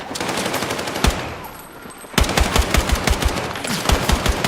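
Rapid video game gunfire rattles in dense bursts, a short volley, a brief lull, then a longer string of sharp, loud shots.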